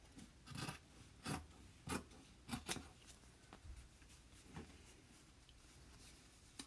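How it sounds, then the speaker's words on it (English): Scissors snipping a rectangle from a Chalk Couture sheet, several crisp close cuts in an uneven rhythm that grow quieter toward the end. "I'm going to cut a rectangle"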